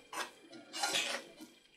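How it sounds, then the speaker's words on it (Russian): A spoon stirring soft, runny bread dough in a bowl, with a few quiet scraping and knocking strokes against the sides. "Перемешиваю ложкой."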